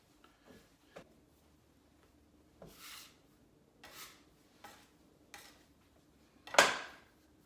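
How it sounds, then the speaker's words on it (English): Tiropitakia pastry dough is kneaded by hand on a bench: soft rubs and dull presses come at uneven intervals, with one sharper slap near the end, all close and fairly quiet. "What we're going to do is just knead it a little bit."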